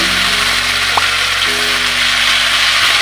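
Jujubes drop into hot oil in a kadai for a sweet-sour pickle, giving a loud, continuous sizzle and crackle with a faint scrape of stirring.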